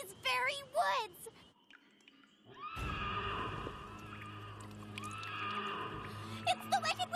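A cartoon horse gives a loud, warbling whinny near the start, followed after a short silence by a sustained swell of dramatic music with brief high squeals near the end.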